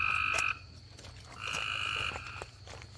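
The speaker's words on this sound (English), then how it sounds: "You think it's a tree frog? Or a toad frog?" A large frog or toad croaks outdoors in two long trilling bursts separated by a pause, close and fairly loud over a steady low engine thump.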